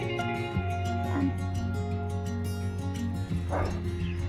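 Dogs barking and yipping at a seaside dog playground, with brief yaps and whimpers over a steady low background hum.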